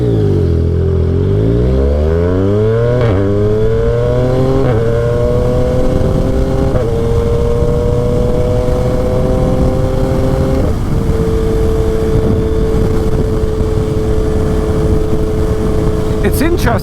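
A Yamaha XSR 900 motorcycle on a ride climbs through its gears, its engine rising in pitch, dropping at each shift, then settling into a steady loud drone with wind rush throughout.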